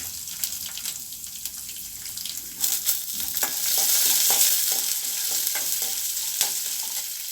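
Ginger and green chillies tossed into a hot pan of oil for coriander chutney, a sharp sizzle that swells as they go in, with spatula scrapes and stirring clatter close by and no voices.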